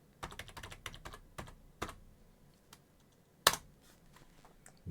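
Keys tapped on a computer keyboard while entering a password, arriving in short irregular bursts of close, crisp clicks with pauses between them and one sharper hit near the end.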